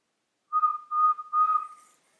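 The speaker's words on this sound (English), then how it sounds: "all I have to do is give it a couple of whistles." Three short whistled notes at the same steady pitch, close and clear, with brief gaps between them and silence around.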